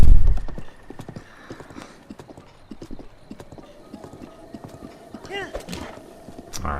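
A horse in Zelda Breath of the Wild gallops with rapid, rhythmic clip-clop hoofbeats, close and steady, while someone talks over the running hooves and a brief whinny sounds near the end.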